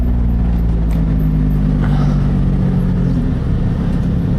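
A Lotus Elise in sport mode drives along a narrow lakeside road, its engine a loud, steady low drone heard from inside the car, holding nearly constant with a slight pitch shift near the end.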